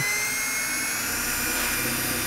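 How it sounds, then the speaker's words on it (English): A power drill whines at a steady, high pitch as it bores into a trash can, loud and continuous with no pauses. "Just doing a little trash can drilling."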